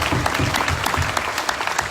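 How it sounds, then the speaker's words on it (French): A church congregation clapping to praise the Lord in rhythmic, regular claps with a low pulse beneath, fairly close and steady through the moment. "Applaudissons au Seigneur"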